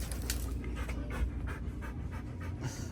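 A dog pants quickly and rhythmically close by, short breathy huffs repeating steadily with no talking.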